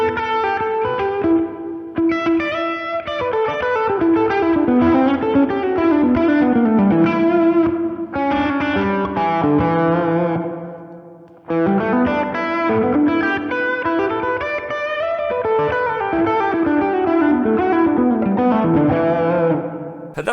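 Electric guitar played through an HX Stomp with reverb mix set high at 45, sustained chords and picked notes washing into a thick, distorted, chorus-tinged reverb tail, loud and continuous with a brief dip near the middle.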